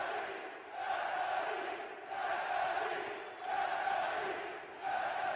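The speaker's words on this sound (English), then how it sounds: "the crowd is chanting Moroșanu's name." Fight-night crowd at a kickboxing event chanting a Romanian fighter's name, a rhythmic swelling chant that rises and falls in repeated waves, distant and reverberant, steady throughout.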